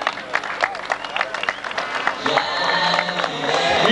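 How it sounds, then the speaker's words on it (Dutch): An audience at a 1999 tractor pulling event at Flevohof, Netherlands, breaks into applause that swells and grows steady, with a Dutch announcer speaking over the start of the clapping. "En dan een hartelijk applaus, dames en heren, publiek, jongens en meisjes, voor Miss Liberty van Michel Kooi."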